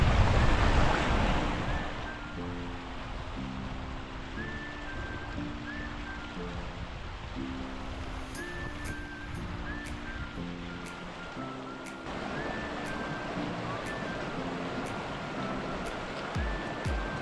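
A river crossing in winter Scotland rushes with steady broadband water noise for the whole stretch, while a melodic music track plays over it and partly masks the flow.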